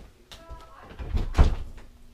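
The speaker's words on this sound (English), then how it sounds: "Let me close my door." A bedroom door swings shut with a soft rubbing sweep and a low thud, close by in a home room where someone is unboxing computer parts.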